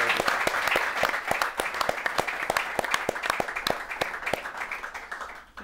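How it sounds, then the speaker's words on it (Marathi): An audience applauds to congratulate a couple, a dense burst of many hands clapping that carries on steadily for several seconds before tapering off. "आपण टाळ्या वाजवून त्यांचं अभिनंदन केलं पाहिजे"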